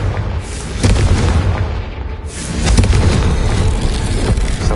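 A Confringo fire spell bursting in Hogwarts Legacy, with loud booming explosions, a heavy blast near the start and another rolling burst past the midpoint, over dense low rumble.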